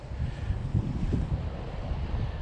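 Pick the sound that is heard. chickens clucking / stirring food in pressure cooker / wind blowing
wind blowing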